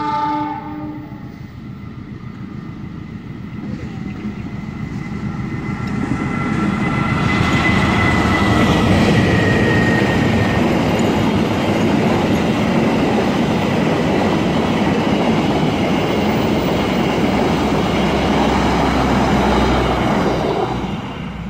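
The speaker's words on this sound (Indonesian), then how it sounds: "Kereta yang kedua yang melintas di halte Sadang" A train runs through Sadang halt in Indonesia, its horn sounding at the start before a loud, continuous rumble and clatter of passing wagons fills the scene close by.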